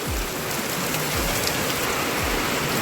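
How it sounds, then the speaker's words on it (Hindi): Heavy rain falling steadily in a loud, dense hiss of drops on surfaces, continuous and close with occasional low thumps beneath, no talk. "अब्बड़ पानी गिरत हवा"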